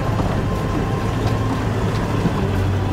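Loud, continuous engine drone and rumble from a 4x4 crawling in drive in low range, probably second gear, along a dirt track in Sundown National Park, Queensland, steady throughout with no talk.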